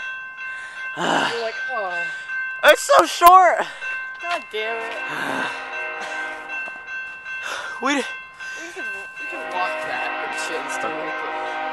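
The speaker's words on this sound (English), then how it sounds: "Oh, there's a train right" A train passing near a park, its rumble and horn-like tones sounding under excited talking and exclamations from people nearby.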